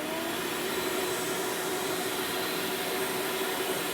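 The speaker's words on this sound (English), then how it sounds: "We got the vacuum cleaner running." A vacuum cleaner powered by an EcoFlow electric generator runs steadily and loudly throughout, a constant whooshing roar with a high whine and no pauses or voices.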